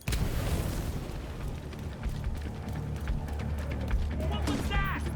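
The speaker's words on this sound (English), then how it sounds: "Grenade." A grenade going off in The Division 2 gunfight, a heavy rumbling blast that fills the scene with continuous roaring debris and crackle, over a loud dense battle backdrop.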